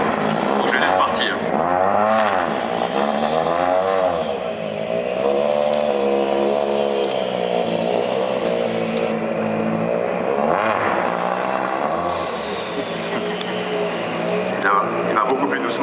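A Citroën rally car pulls away slowly at a press conference at a motor show, its engine revving up and down in rising and falling sweeps, loud and close, over steady crowd noise and voices throughout.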